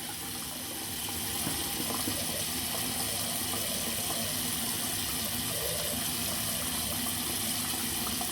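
Tap water runs steadily and close for several seconds, a continuous gushing rinse over a safety razor at a sink, with no talking.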